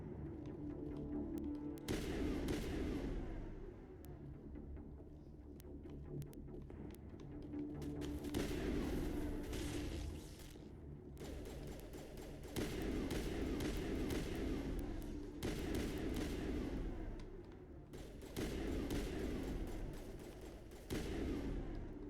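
Gunfire in the video game Mass Effect comes as dense bursts of rapid shots and booming impacts, near and fairly loud, with short pauses between volleys and some faint voices in the mix.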